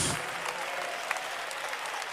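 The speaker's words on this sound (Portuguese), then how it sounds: "pode bater palmas e dar glória a Deus." A church congregation claps in steady, dense applause that begins abruptly and continues evenly at moderate level.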